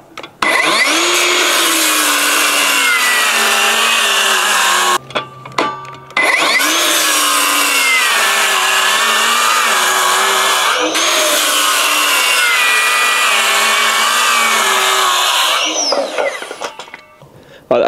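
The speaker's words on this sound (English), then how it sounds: "I want to test the saw and test it ripping some" AEG 18V cordless saw ripping through LVL lumber, a loud, steady whining cut that runs almost continuously, breaking off briefly once before resuming and then winding down at the end.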